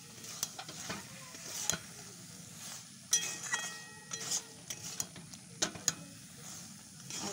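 A lentil and vegetable curry with ridge gourd and potato, cooked with cumin powder, is stirred in a sizzling pan: a steady frying hiss runs under sharp scraping and clacking of the spoon against the pan at irregular intervals.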